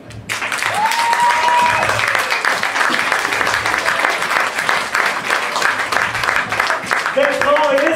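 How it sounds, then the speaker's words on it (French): An audience at an anniversary stage show gives loud, steady applause that runs throughout, with a voice briefly heard over the clapping. "Et on applaudit bien fort Marc, Sylvie et Valérie."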